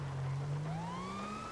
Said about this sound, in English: to activate the lights and sirens, you just press on the left analog stick, and that turns them on